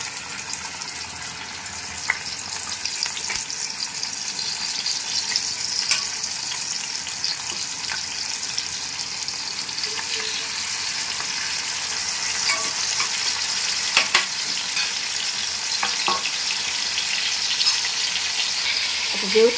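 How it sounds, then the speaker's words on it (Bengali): Tandoori-marinated meat with yogurt sizzles in a hot pan, a steady close hiss of frying that runs throughout with a few soft clinks of stirring. "এটা গরম হয়ে গেছে, আমি এর মধ্যে তান্দুরটা দিয়ে দিচ্ছি।"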